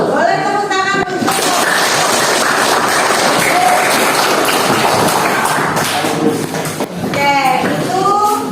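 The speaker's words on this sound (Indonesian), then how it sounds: "Boleh tepuk tangan untuk" A classroom of students claps for a presenting group, a burst of fairly loud, close applause with a few taps and thuds, and short bits of voices at the start and end.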